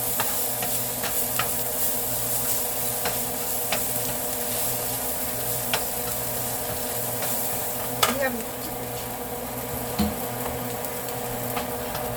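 Onions frying with spices in a pan: a continuous sizzle with occasional scraping and tapping of a stirring utensil against the pan, close and steady.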